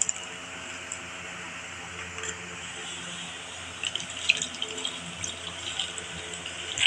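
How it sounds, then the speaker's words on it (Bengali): Water poured from a tap into bael fruit pulp while making bael sherbet with sour yogurt, a faint, steady trickle and splash that grows slightly busier toward the end. "এখন আমি এর মধ্যে একটু জল দেব।"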